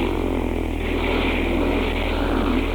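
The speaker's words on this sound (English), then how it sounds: "the engine's sputtering" A propeller airplane engine in an audio drama drones steadily and loudly, a continuous close throbbing hum with no pauses.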